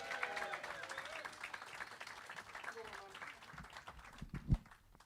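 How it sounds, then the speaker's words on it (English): Comedy club audience at Hot Water Comedy Club keeps up steady, dense applause and crowd noise, fairly faint in the room. It thins toward the end, where a single low thump stands out. "so keep that applause going"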